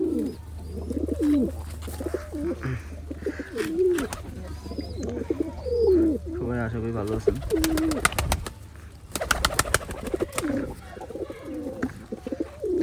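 High-flying pigeons of an old Khulna breed coo repeatedly nearby, their low throaty calls running under someone speaking, with a few sharper bird chirps now and then.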